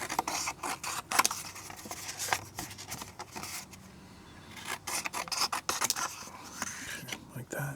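Scissors trim a sheet of watercolor paper close up, making repeated crisp, raspy cutting strokes in irregular bursts with a brief quieter pause midway.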